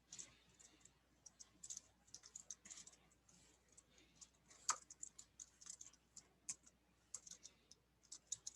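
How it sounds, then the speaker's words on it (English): Quiet, rapid clicking of a computer keyboard as someone types during web development work, with irregular bursts of keystrokes and one sharper tap, continuing steadily throughout. "I'll muddle through typing this."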